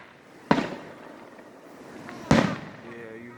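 Two loud, sharp firework bangs about two seconds apart, each followed by a short decaying rumble, set off in a backyard and heard from the bed of a Chevrolet Silverado pickup.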